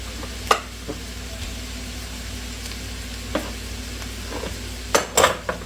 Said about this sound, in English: So to this we are going to add the fire roasted diced green chilies.